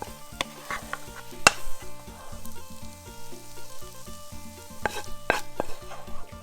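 Three eggs stir-fried in a pan for shrimp fried rice, bright crackling sizzle with clanking spatula strikes against the pan and a couple of louder metallic knocks, no speech.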